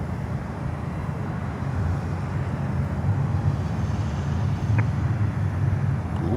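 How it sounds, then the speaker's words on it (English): American Airlines Boeing 737-800 airliner on approach to land at Miami airport, a steady broad jet roar with low rumble holding evenly throughout, moderately loud and unbroken, no voices. "we have American Airlines with a 737-800 coming in from Washington, D.C."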